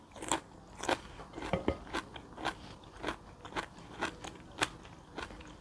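Crisp, crunchy bites and chewing on a raw wild vegetable, with a sweet, cabbage-like texture. About a dozen sharp crunches come close to the mic in a steady rhythm, with no talking.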